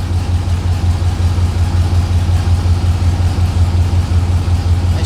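A 6.0L LS V8 swapped into a Chevrolet S10 idles with a deep, steady, loud rumble and a slightly lumpy pulse, close by and constant for about five seconds with no talking.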